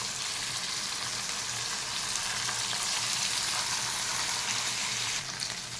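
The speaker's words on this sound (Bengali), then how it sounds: "মাছগুলোকে আমি এখন এক এক করে ভেজে নেব।" Fish, khoira hilsa, frying in mustard oil: a close, steady, dense sizzle crackles without pause from start to finish, with a faint extra flare near the end and no voices.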